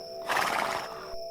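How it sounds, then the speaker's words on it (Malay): A horse gives a short breathy snort, close and fairly loud, lasting under a second against a quiet background. "Kuda Damak mendengus apabila seorang pengawal menghampirinya."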